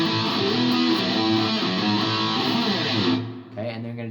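Electric guitar plays the end of the verse riff: about three seconds of sustained, lightly overdriven chords, then a short fading tail.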